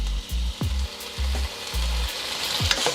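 Chicken pieces sizzling in hot oil in a pan for chow mein as they are turned over, a steady loud fry broken by a few low knocks and scrapes of the pieces being moved, close with no talking.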